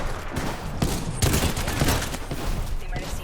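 Gunfire from an Apex Legends battle, a continuous rattle of shots at moderate loudness with dense bursts swelling in the middle.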